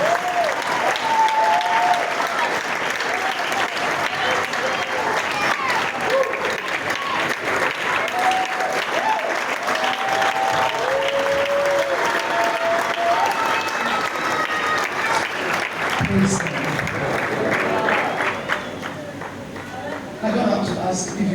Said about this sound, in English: So if you are clapping, clap very well.